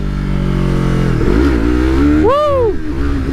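A Kawasaki ZX6R sport bike's engine roars close and loud, building through a short rising rev that peaks and drops away as the front wheel lifts in a small wheelie.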